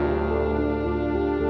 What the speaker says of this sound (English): Then we have some timpani.